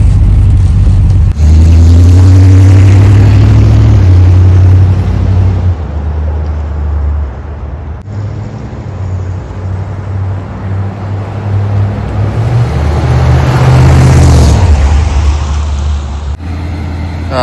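A 1972 Dodge W200 Power Wagon truck engine drones loudly from inside the cab as it drives and pulls through gears, a low steady rumble that rises and shifts pitch several times.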